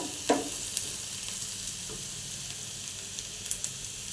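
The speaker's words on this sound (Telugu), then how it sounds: "ఆనియన్స్ బాగా మగ్గిన తర్వాత టేస్ట్ బాగా వస్తుందండి, గోల్డెన్ బ్రౌన్ వచ్చే వరకు." Onions sizzle quietly in hot oil in a pan as they fry toward golden brown, a soft steady crackle with a few light stirring clicks and taps, close by and without voices.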